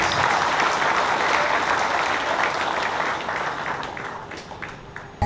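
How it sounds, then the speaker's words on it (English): Crowd applause at a closing ceremony for US and Philippine Army exercises, a dense steady round of clapping that gradually thins and fades out toward the end. "Likewise. Round of applause."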